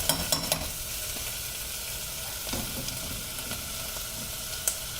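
Chopped onion frying in a pan gives a dense, steady sizzle, broken by a few quick scrapes of a stirring spoon near the start and once near the end, close up and alone.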